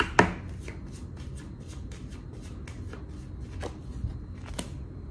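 Tarot cards are shuffled and set down on a table, a close run of crisp riffling flicks and soft slaps coming in irregular bursts, with a sharper snap near the start and a few distinct taps later on.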